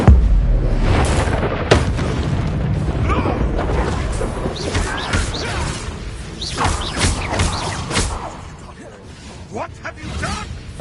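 Spells explode in a Hogwarts Legacy battle as booms, thuds and whooshing bursts roll over busy game music, while character voices call out.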